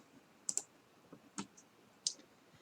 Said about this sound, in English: I'm going to click Start.